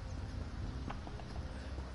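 Horse hooves clip-clopping in a video game, a steady, fairly soft trot of hoofbeats under a low background rumble, with a faint whinny-like sound.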